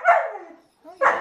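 An impatient dog gives two close, loud barks separated by a short pause, the first bark trailing off into a whine before the second one.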